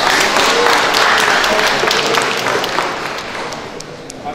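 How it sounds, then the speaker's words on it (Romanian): Applause at a golden wedding anniversary celebration, a dense, steady wash of many hands clapping that stays loud before easing slightly toward the end, with no talk over it. "Aplauze, merită."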